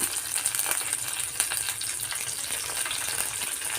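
Dried red chilies and curry leaves sizzle in hot oil for a brinjal and yogurt curry, a steady close crackling hiss with small pops, continuous and without any talk.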